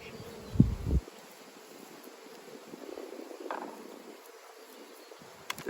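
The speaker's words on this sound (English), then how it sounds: "You can see bees on all the frames once again, and we're on a good nectar flow." Honey bees buzz softly around Flow Hive frames during a good nectar flow, a faint continuous hum with a brief louder knock near the start.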